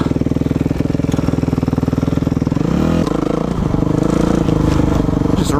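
A motocross motorcycle rides a dirt track, its engine loud and close with a fast pulsing exhaust beat that shifts pitch partway through as the rider changes speed.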